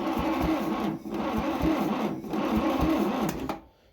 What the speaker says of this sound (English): So the motor's turning